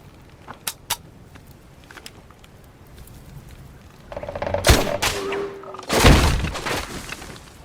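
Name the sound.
sci-fi weapon firing a single shot, Stargate SG-1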